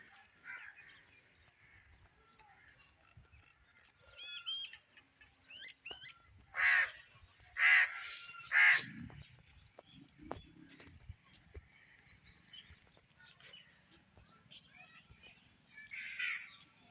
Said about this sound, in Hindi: कौवे उसके आसपास खड़े हैं, उससे डर ही नहीं रहे।